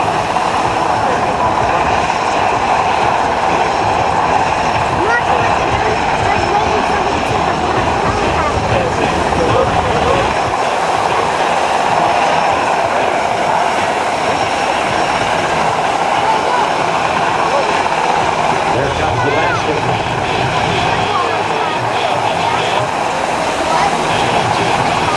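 A Coast Guard helicopter hovers low over the stern of a 47-foot boat at an air show, its rotor and engine roar loud and steady throughout, with a voice talking over it.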